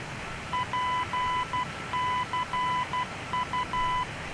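Morse-style station identifier tones from a VOR navigation beacon in a Boeing 747-200 flight simulator: a steady series of short and long beeps repeating in groups, clear and alone over faint background hiss.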